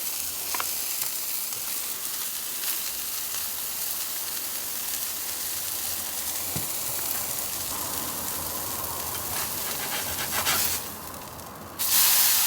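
Brisket smash burger patty sizzling steadily on a Weber griddle, a loud continuous frying hiss with a brief harsher burst near the end, no voices.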